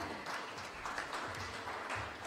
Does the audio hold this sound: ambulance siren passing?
no